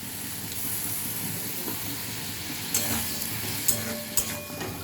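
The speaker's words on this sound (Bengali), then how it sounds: "একটু কষিয়ে নেব।" Masala for shankar fish kosha sizzles and hisses in a pan with a little water added, a low steady crackle broken by a few sharp scrapes and taps of the stirring spoon toward the end.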